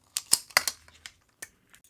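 Wire cutters snip jewelry wire for a two-strand boho beaded bracelet, giving several sharp close clicks and snaps spaced irregularly, with quiet gaps between them.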